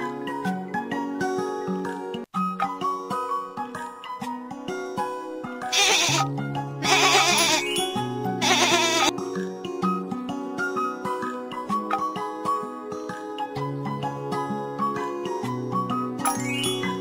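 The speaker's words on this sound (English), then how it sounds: "Goat." A goat bleats in three loud, wavering calls in quick succession, set over a bright children's music backing with chimes and melody.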